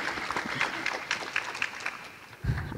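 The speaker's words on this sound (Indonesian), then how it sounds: "Mungkin boleh minta tepuk tangannya." Scattered, fairly faint clapping from an audience at an Indonesian panel discussion on climate financing, thin and uneven rather than a full ovation, with a low thump near the end.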